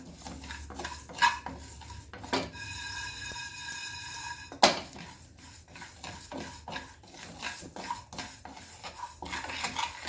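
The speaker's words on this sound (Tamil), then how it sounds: "நல்லா பொரி அரிசி மாதிரி நல்லா வறுத்துருங்க." A utensil stirs and scrapes rice being dry-roasted in a pan with dry ginger and cardamom. The metallic strokes are repeated and close, with a faint sizzle underneath and no voices.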